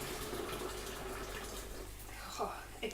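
Boiling water poured from a kettle into a vessel for brewing kombucha tea, a steady splashing pour running under a voice.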